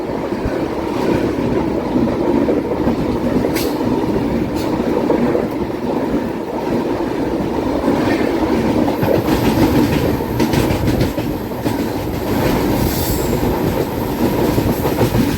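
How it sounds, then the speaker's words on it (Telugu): A Bengaluru–New Delhi Rajdhani express train makes a loud, steady rolling rumble with a rhythmic wheel clatter that lasts the whole stretch. No one speaks. "ఇది బెంగళూరు న్యూఢిల్లీ రాజధాని."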